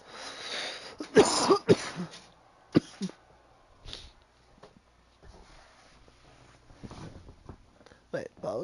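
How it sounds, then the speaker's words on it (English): A person coughs in a harsh, close burst of several coughs, then gives a few quieter throat-clearing sounds and sniffs with pauses between them. "I usually try to mute myself when I start coughing like that."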